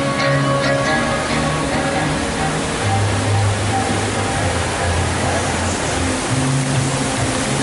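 Steady, loud rush of water at a water park fills the whole stretch, a dense broadband roar like a torrent or falling water, with faint low tones drifting underneath.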